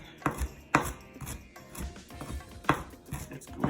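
Knife chopping vegetables on a cutting board for chunky salsa, a series of sharp, close thuds in an uneven rhythm, about seven strikes, with no talking.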